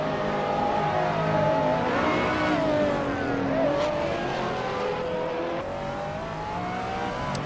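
Brabham BT62 (2018) race car driven in a VR racing game, its engine droning loudly and continuously with a pitch that rises and falls as it accelerates and eases off.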